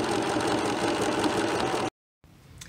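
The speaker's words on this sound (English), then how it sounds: "I'm just going to do 1 row of top stitching, I think, for the hem" A sewing machine runs a steady, close whirring line of top stitching along a T-shirt dress hem, then stops abruptly into silence, followed by a faint low hum and a small click.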